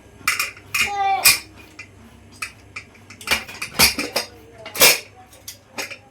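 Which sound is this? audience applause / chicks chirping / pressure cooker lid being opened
pressure cooker lid being opened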